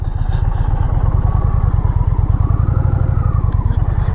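An Indian Pursuit Limited motorcycle's engine pulls hard under full acceleration, a loud, close, deep pulsing throb with a rapid, even firing rhythm that holds strong throughout.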